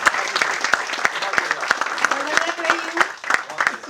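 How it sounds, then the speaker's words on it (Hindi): Audience at a Hindi kavi sammelan poetry recital claps in sharp, distinct hand claps, fairly close, while a voice keeps talking or reciting over the rhythm of the claps. "एक बार तालियों संग आवाज दीजिए"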